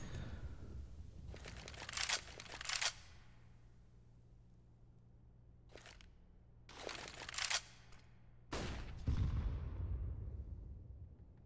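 Short sprays of gunfire in a Counter-Strike match on the Mirage map, coming as separate bursts a few seconds apart. They are moderately loud against a quiet background, and the last burst is louder and closer.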